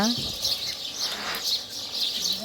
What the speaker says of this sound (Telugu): పిచుకులు అయితే ఎంత బాగా సౌండ్ చేస్తున్నాయో